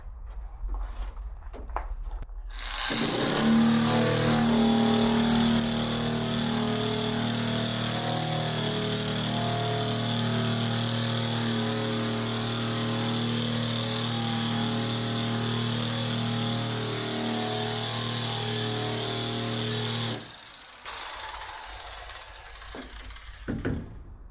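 A Harbor Freight Bauer surface conditioning tool fitted with its most aggressive wheel spins up and runs on a panel for about seventeen seconds, a loud steady high whine with a constant drone, then cuts off and spins down.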